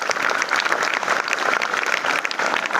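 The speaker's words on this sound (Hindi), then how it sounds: "एक बार अपने लिए जोरदार तालियां।" Children applauding loudly at a youth group event, a dense, energetic wall of clapping from a large group of kids, continuous and even for the full few seconds.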